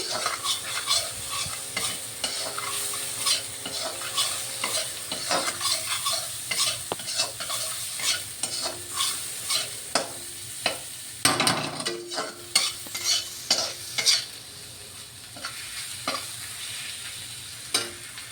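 Spice paste for a koi fish curry with mustard and cumin fries in a pan while a spoon stirs it. Repeated scraping strokes rise over a continuous close sizzle, with occasional metallic knocks against the pan.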